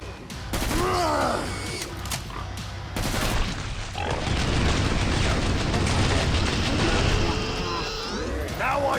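SA80 L85A2 bullpup rifle firing in the Killing Floor 2 video game: dense rapid gunfire and booms mixed with game creature grunts and effects, loud and continuous, with voices over parts of it.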